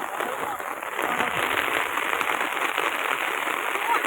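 Continuous downpour in the Sundarbans by a river, a close, even wash of raindrops pattering without pause for several seconds.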